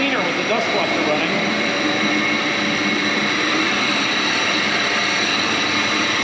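A floor grinder runs together with a dust collector in a dense, loud, unbroken roar and whine that holds steady throughout.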